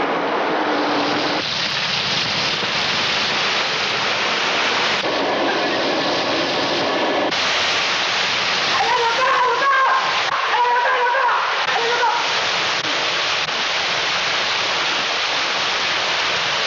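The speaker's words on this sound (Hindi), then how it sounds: "माय गॉड, क्या बारिश है!" Heavy rain pours down in a steady, dense roar that fills the whole clip, with faint voices briefly audible beneath it.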